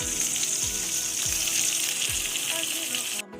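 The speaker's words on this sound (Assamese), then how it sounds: "এয়া মাছ ফ্ৰাই কৰি আছোঁ" Fish sizzles steadily in a hot pan in a home kitchen, a constant bright crackle with a few soft clinks of utensils under it, ending abruptly.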